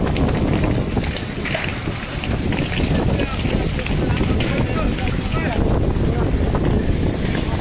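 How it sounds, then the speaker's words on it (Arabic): Strong wind during wildfires burning villages in Algeria roars and buffets the microphone as a loud, continuous broadband rush that never lets up, with voices faintly mixed in. "ريح قوية الآن، قوية قوية الآن."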